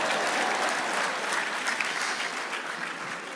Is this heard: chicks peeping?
no